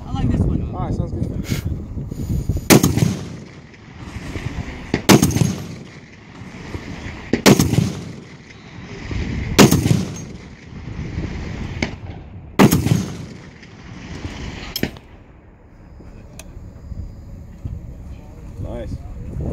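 .50 caliber gun firing outdoors, six loud booming single shots spaced a couple of seconds apart, with wind noise and people talking in the background between shots.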